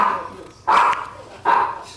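A dog at a home poker table lets out two short, loud barks about a second apart.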